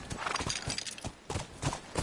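Horse hooves clop on the ground in the video game The Last of Us, a quick, uneven run of close, distinct hoofbeats with no talking over them.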